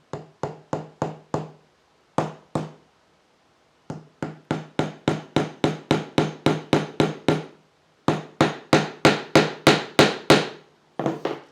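A roof nail is driven in with a hammer, sharp knocking blows coming in quick rhythmic bursts of several strikes each with short pauses between, close and clear with no talk.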